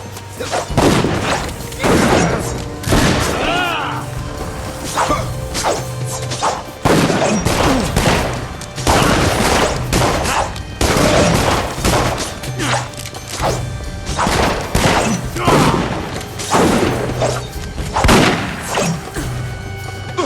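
Dungeon Siege III combat on PlayStation 3 gives repeated heavy gunshots and impact crashes. The bangs are irregular and loud and land over a continuous game soundscape.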